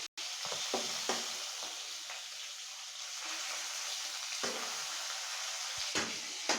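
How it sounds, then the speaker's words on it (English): Fish fries in mustard oil for a Bengali fish curry as it is flipped, a soft continuous sizzle broken by a few light clatters of the utensil against the pan. "Now flip the fish carefully."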